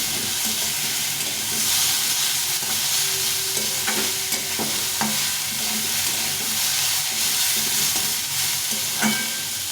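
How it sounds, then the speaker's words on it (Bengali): Banana stem pieces (thor) fry in a pan with a steady, close sizzle and occasional stirring clicks and scrapes throughout, no talking. "ভালো করে একটু ভেজে নেব"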